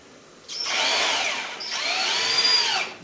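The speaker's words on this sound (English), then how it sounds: "Just regular drywall screws." Power drill driving regular drywall screws into a casting pattern in a workshop, two sustained whining bursts of about a second each with a short pause between, close and loud.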